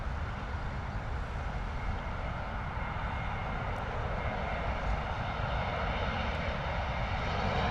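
A Middle East Airlines airliner arriving from Beirut lands at London Heathrow, heard as a steady, fairly faint broadband engine roar from some distance, unbroken throughout.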